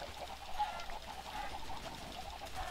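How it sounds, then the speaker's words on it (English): Chickens cluck softly in Minecraft, faint repeated clucks over a low, steady background. "You guys have to watch me kill these chickens."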